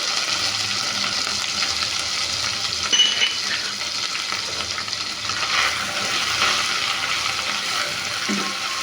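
Ginger, garlic and onion paste frying in a pan for a prawn malai curry, a steady close sizzle with occasional spatula clinks and scrapes against the metal.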